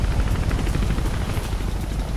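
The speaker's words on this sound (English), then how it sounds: "Ah, helicopter!" A helicopter in the video game Mirror's Edge gives a steady, loud rotor thrum with rapid rhythmic chopping pulses that fill the whole stretch.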